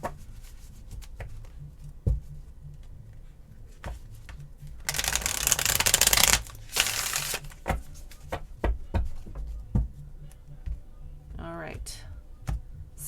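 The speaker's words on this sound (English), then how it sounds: "I'm being called to shuffle." Light Seers tarot cards shuffled by hand, a steady riffling flutter with scattered soft taps and a dense burst of fast shuffling midway, close and fairly quiet.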